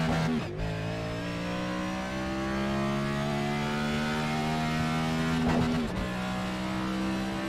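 NASCAR Next-Gen race cars accelerate with a deep, steady engine drone that rises in pitch over several seconds, with a brief gear change near the start and another near the end, loud and close with no talking.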